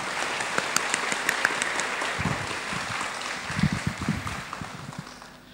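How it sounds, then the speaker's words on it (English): Forum audience clapping for the speakers, a fairly faint spread of hand claps that thickens in the middle and trails off, heard at some distance in a large room. "let us put our hand together and give them a warm applause"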